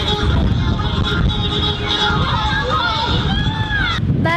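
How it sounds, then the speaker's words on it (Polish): Strong wind on a cold day outdoors buffets the microphone with a steady, loud, low roar that runs without a break, while other sounds sit faintly beneath it. "bardzo mocno wieje wiatr"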